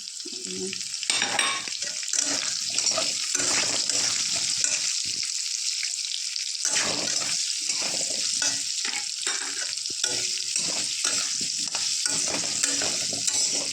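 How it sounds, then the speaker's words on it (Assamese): Jackfruit pieces and chopped potatoes with salt and turmeric fry in hot oil, giving a steady loud sizzle with repeated scraping stirs throughout and no voices. "এতিয়া কঁঠালখিনি ধুনীয়াকৈ ভাজি ল'ম মই"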